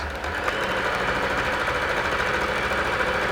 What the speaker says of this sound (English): So at the moment I'm sewing where the top is attached